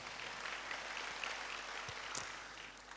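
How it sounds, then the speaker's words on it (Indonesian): Church congregation applauding together, a steady faint wash of clapping held evenly for a few seconds in a large room. "berikan tepuk tangan dulu bagi Tuhan"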